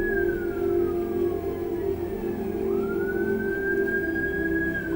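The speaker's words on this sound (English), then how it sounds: "I hear sirens." Emergency vehicle siren wailing steadily in the background, its pitch sweeping down then rising again over a constant low rumble, heard from a moderate distance.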